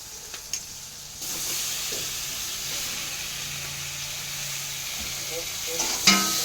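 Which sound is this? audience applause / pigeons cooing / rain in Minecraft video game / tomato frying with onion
tomato frying with onion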